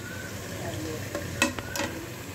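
Ground tomatoes hitting frying mutton biryani masala in a pan, Salem style: a brief, continuous sizzle with a couple of quick stirring clatters.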